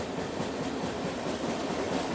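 Chennai Duronto Express, a non-stop Delhi–Chennai train, rumbling steadily along the rails with a continuous loud roar of wagons and wheels throughout, no voices.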